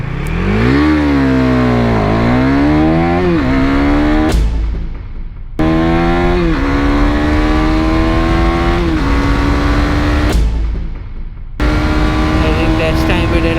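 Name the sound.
KTM Duke 250 motorcycle aggressive downshifting with slipper clutch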